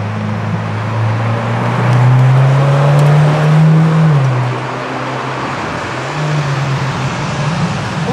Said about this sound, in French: Ah oui, McLaren Senna.